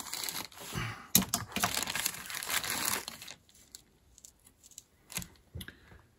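A plastic bag holding chrome model car kit parts is opened and handled, giving a few seconds of dense, close crinkling followed by sparser rustles and clicks, with no speech.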